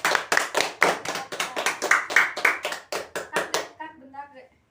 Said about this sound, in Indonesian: Kasih aplaus buat Mbak Lili.